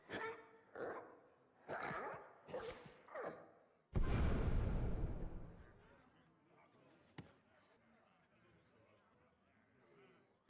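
A dog barks several times in quick succession, close and fairly loud, before a burst of whooshing noise and quieter background sounds; someone talks nearby.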